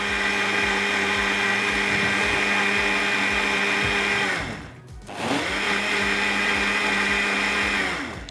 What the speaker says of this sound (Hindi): दोबारा पीसते जाएंगे।